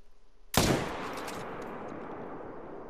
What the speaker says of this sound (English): Perfect heart shot.